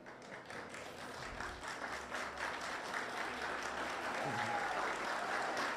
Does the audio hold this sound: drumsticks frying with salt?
no